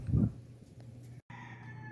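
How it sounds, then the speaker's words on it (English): A hen trying to lay an egg gives a short, close cluck at the start, followed by quiet farmyard background with a faint hum. "This is the hen that keeps trying to lay an egg."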